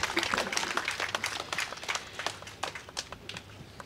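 An audience at a customs reform event applauds the Comptroller General of Customs with a dense burst of clapping that gradually thins into scattered, fading claps.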